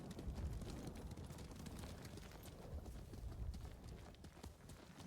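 Horse hooves clip-clopping in Ghost of Tsushima, a quick, steady beat of galloping steps, faint and muffled beneath low rumbling game ambience.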